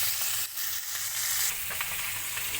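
Tamban (lawlaw) fish frying in a pan at a farm home, a steady close sizzle with faint crackle running continuously throughout, no talking.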